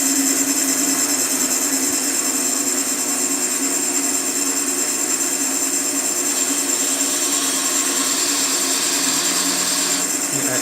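A wood lathe spins a wooden battling top at speed, making a loud, steady, high whirring drone that runs throughout with a slight shift in pitch near the end.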